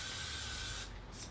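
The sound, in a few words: hairspray sprayed on synthetic wig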